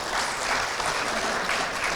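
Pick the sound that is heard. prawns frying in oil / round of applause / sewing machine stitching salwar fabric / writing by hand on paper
round of applause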